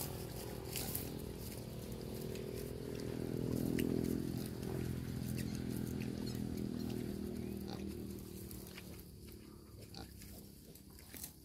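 A wild boar sow with her piglets makes soft grunts and squeals mixed with rustling and patter, close by and fairly quiet, with a swell of louder grunting partway through.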